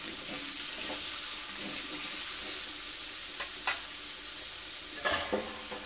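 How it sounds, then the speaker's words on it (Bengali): Potatoes fry in a pan as they are stirred, with a steady close sizzle broken by occasional scraping clicks of the stirring utensil. "নাড়াচাড়া করে আবারও আমি ঢাকা দিয়ে দিলাম।"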